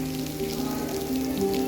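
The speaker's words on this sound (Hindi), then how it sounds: "मगर अब यहाँ बहुत तेज़ बारिश हो गई है" Heavy rain pours down in Lodhi Garden, a steady dense hiss of drops on surfaces continuing without a break throughout, close and fairly loud, with no voices.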